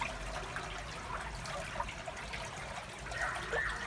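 Water flows steadily from the spring beneath the stone at Gurdwara Panja Sahib in Hasan Abdal, Pakistan, a soft continuous trickle heard faintly amid outdoor ambience.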